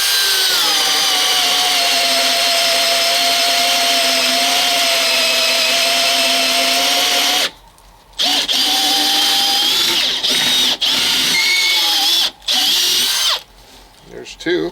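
A cordless Makita XPH07 drill boring through wood with a 1-inch auger bit, a loud continuous whining grind that cuts out briefly a few times near the end, with voices talking over it.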